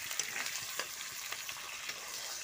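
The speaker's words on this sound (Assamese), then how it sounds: "ইফালে ভাজি লৈছোঁ" Pork fries in a pan with a steady, fairly faint sizzle and crackle, with small pops and spatters now and then and nobody talking.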